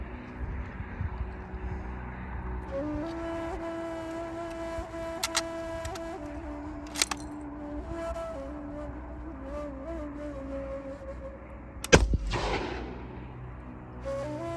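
A Gewehr 98 bolt-action rifle from the First World War fires a single shot of 1940-dated ammunition, a sharp crack with a short decaying tail near the end, heard over a steady droning background.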